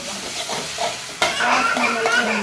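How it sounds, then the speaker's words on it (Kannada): Ginger garlic paste sizzles in a hot pan while cooking prawns, a loud close crackle with stirring scrapes, briefly interrupted by a sharp clink before the frying hiss resumes. "ಜಿಂಜರ್ ಗಾರ್ಲಿಕ್ ಪೇಸ್ಟ್ ಹಾಕೊಂಡಿದ್ದೀನಿ ಪೇಸ್ಟ್ ಹಾಕೊಂಡು ಸ್ವಲ್ಪ ಫ್ರೈ"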